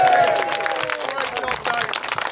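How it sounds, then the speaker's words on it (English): A crowd at an outdoor protest march claps for a speaker: brief, dense applause with some voices mixed in, fairly close and loud. "Can we have a round of applause for Dave Pettener?"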